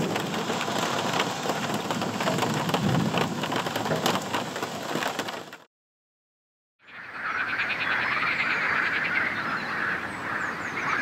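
Heavy rain pours steadily outdoors during a bike trip in southern Finistère, Brittany, a dense close hiss with a sudden second of silence midway before the downpour resumes, with faint frog-like croaks over it.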